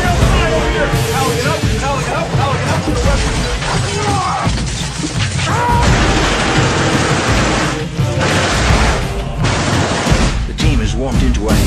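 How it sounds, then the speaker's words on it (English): Dense bursts of rapid automatic gunfire crackle continuously, harsh and loud, with voices mixed into the chaotic din. "into a hail of automatic gunfire"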